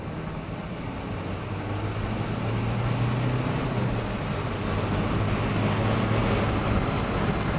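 Interior drone of a Renault Megane 2 RS accelerating, with a low engine hum that rises gradually in pitch and stays steady and continuous beneath road and wind noise, and no voices.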